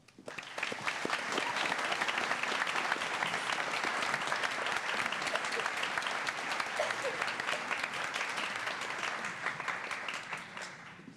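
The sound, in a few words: audience applause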